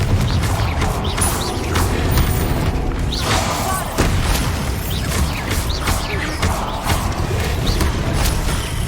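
Explosive fire-spell blasts in Hogwarts Legacy, repeated booms and crashing impacts over a rumbling, mechanical game soundscape, loud and close with a sharp hit near the middle and brief voice fragments.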